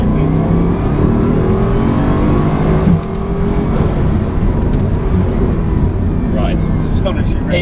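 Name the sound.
car with two-stage turbocharged 16-cylinder engine accelerating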